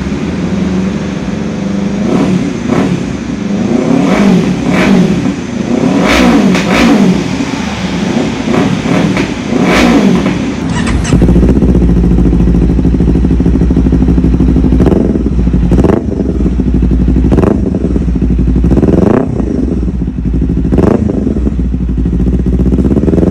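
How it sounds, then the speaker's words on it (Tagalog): A Kawasaki Ninja 500 with an R9 aftermarket exhaust idles roughly, then is blipped in repeated sharp revs with a throaty, aggressive exhaust note, close to the listener. "Pakinggan niyo yung sound check ng R9 sa Ninja 500."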